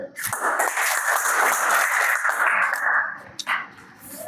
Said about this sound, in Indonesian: Beri aplaus ayo